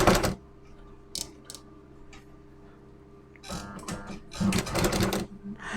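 A sewing machine stitches the edge of net blouse fabric in short runs, a brief buzz at the start and then longer rattling bursts near the end, separated by quiet pauses.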